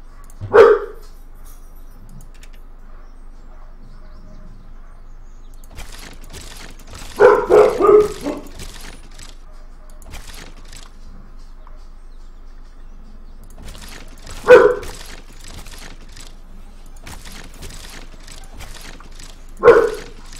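Dogs in the medieval strategy game Stronghold Crusader 2 let out sharp, isolated barks, a few short bursts spaced several seconds apart over quiet game ambience, with faint voices at times.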